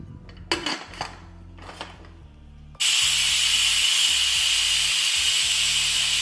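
A few clanks of metal, then a sudden loud, steady hiss of escaping steam from a pressure cooker cooking dal that continues to the end.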